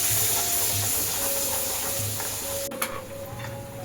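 Masala with turmeric frying in oil over a low gas flame for kadhi, giving a steady soft sizzle with faint stirring ticks throughout, no voices.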